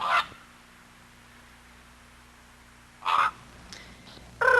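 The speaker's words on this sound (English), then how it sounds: "crows just caw, and ravens have a deeper sound" A crow caws a few times at spaced intervals, short harsh calls against a quiet outdoor background with a low steady hum.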